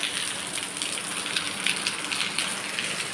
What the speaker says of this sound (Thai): ฝนตกชุ่มฉ่ำเย็นสบายใจครับ